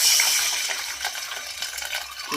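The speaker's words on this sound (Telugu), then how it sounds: "ఇలా వాటర్ పోసినాం కదా 3 గ్లాసులు" Three glasses of water pour steadily into a pan for rava upma, a continuous splashing rush that fades slightly over a couple of seconds.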